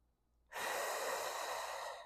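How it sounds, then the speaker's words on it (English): A deep, steady breath drawn in during a lateral lunge stretch, starting abruptly and holding as a loud, airy rush close to the microphone for about a second and a half before easing off. "holding it to breathe in"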